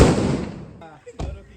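A Diwali firework bursts with a loud crackling boom that trails off, then a sharp pop follows about a second later.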